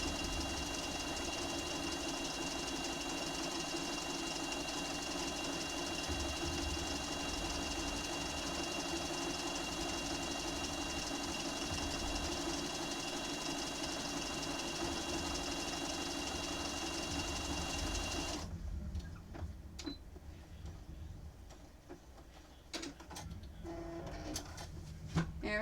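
A home sewing machine stitching a Pokémon appliqué quilt whirs steadily and faintly for about eighteen seconds, then stops, leaving quieter background noise with light clicks.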